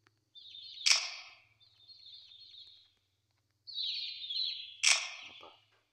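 Two chirping calls from a bird in the Garten of Banban video game, each a bright squawk with a sharp peak, separated by a pause, close and clear with a low steady hum underneath.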